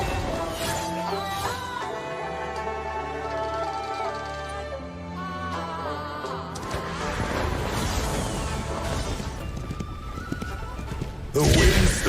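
Galloping horses with neighing from a video game, hoofbeats and whinnies layered over steady music with a louder burst at the very end.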